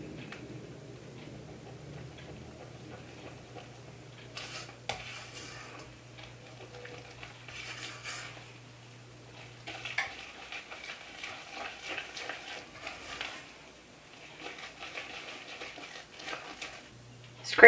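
A spatula stirs gluten-free corn cake batter into dry ingredients in a bowl, giving soft, irregular scraping and ticking bursts over a faint low hum, with quiet pauses between strokes.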